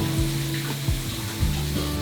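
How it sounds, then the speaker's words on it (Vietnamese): Potato fritters deep-frying in hot oil over medium heat give a steady, close sizzle with a few soft stirring knocks and scrapes, no voices. "Mình sẽ chiên ngập dầu ở lửa vừa."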